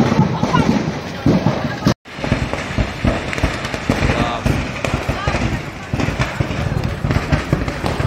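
Firecrackers burst in rapid, irregular pops and bangs amid a roaring fire in a firecracker shop on Diwali night, with excited voices shouting through the chaos.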